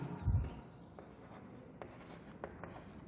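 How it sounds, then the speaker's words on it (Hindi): Writing strokes on a board or paper run quietly and steadily through a maths lesson on real numbers, with a few faint taps and scratches and no talking. "सेम लाइन लिखेंगे हम"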